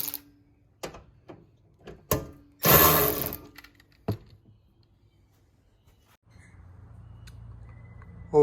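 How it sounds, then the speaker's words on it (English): A Milwaukee ratchet loosens bolts on an FJ Cruiser reverse camera bracket. Scattered metallic clicks lead into one half-second motorized ratcheting whir, followed by a few more clicks and a faint low hum. "grab one of these Milwaukee ratchets"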